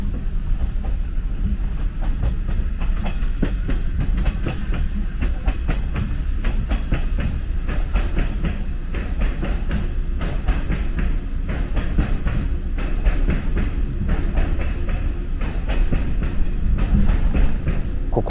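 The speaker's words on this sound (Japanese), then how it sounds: "惜しまれつつも別れる185系特急列車に乗ってきた下田踊り子号パート2の始まりです" A JR 185 series limited express Odoriko train on the Shimoda run, heard from on board as it nears Izu-Kogen station: a steady, loud rumble of wheels and car body with a continuous rhythmic clickety-clack of rail joints.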